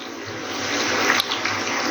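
Water pours steadily into a pot of cooking meat and potatoes, a continuous close splashing rush with no talk.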